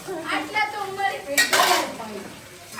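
Dishes, pots and utensils being washed by hand at home, clattering and scraping close by with a louder clanking burst midway through.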